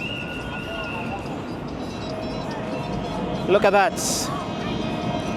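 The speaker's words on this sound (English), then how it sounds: "The train is right here." A train passes at an unbarriered rail crossing in Nairobi's Eastlands, a steady rumble topped by a brief rising squeal and a short burst of hiss, while someone talks nearby.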